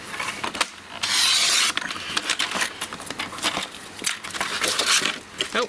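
A paper trimmer slices about half an inch off a sheet of cardstock on a craft table, giving one loud, steady rasping cut lasting under a second amid lighter rustling and handling clicks.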